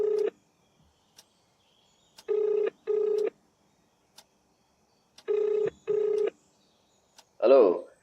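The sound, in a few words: telephone being dialed for a phone call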